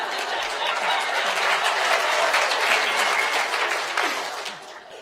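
An audience at a university lecture applauds, a dense, sustained wash of clapping from many hands that fades toward the end.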